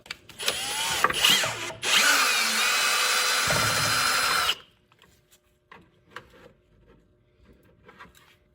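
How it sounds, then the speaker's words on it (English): A power drill whirs loudly in short bursts while drilling a mounting hole on a CFMOTO CForce ATV, then runs steadily for a few seconds before stopping, followed by faint clicks and handling noises. "You will need to drill a hole right here"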